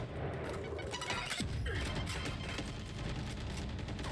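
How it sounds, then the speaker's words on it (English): Rapid bursts of Valorant gunfire crackle continuously amid crashing impacts, a dense, chaotic barrage with no voices. "And lots of gunfire going on."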